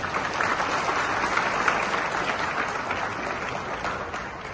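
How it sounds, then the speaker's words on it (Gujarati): Steady applause from an audience at a school event where clothes were given to children, a dense, continuous clapping that holds at an even level throughout with no talk on top. "એમની આ પહેલને, એમની આ સેવાભાવી વૃત્તિ અથવા તો કર્તવ્યને તાળીઓના ગડગડાટથી વધાવી લેશું"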